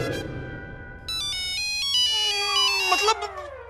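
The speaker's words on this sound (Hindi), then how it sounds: "आपका फोन बज रहा है?" A phone ringtone plays a bright electronic melody of repeating tonal notes over a few seconds, rising in loudness, with a sitcom scene's background under it.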